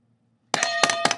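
An object set down on the metal pan of a triple beam balance gives a sudden metallic clank after silence, followed by a few quick ringing clinks close to the microphone.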